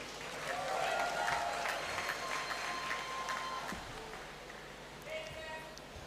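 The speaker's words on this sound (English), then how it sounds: "Let's give her another round of applause." Applause from the audience at a university congregation ceremony in a great hall, a dense sustained wash of clapping filling the room, with a voice speaking over it.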